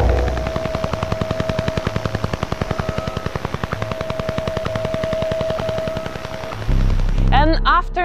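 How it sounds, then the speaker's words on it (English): Duga over-the-horizon radar, the Soviet "Russian Woodpecker", heard as radio interference: a loud, rapid, steady train of sharp tapping pulses over a constant tone, ending in a burst of static. "It was making sharp tapping noises that were appearing from nowhere and that were disappearing the same way."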